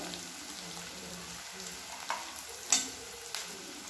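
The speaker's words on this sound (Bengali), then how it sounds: "এরপর বড় বড় করে কেটে রাখা পেঁয়াজটা দিয়ে দেবো।" Large-cut onion chunks sizzle softly in a hot pan for chili baby corn, a quiet, steady frying hiss broken by a few sharp crackles and stirring scrapes.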